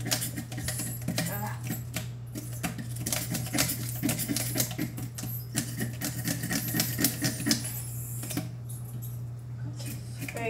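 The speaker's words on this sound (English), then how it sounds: "Very hard to take the scales off." Scraping scales off a mangrove snapper by hand: a steady run of rapid, gritty scratching strokes, close and fairly loud, continuing throughout over a constant low hum.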